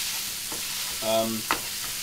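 Minced meat fries in a pan over high heat while it is stirred, making a soft steady sizzle with a brief tonal scrape and a sharp clink near the end, with no talking.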